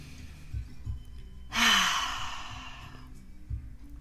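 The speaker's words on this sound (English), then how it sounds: "I would like for us to take a nice deep in breath" A deep in-breath during a guided meditation: one loud, close, breathy inhale that rises sharply and fades over about a second and a half, set against a quiet background without talking.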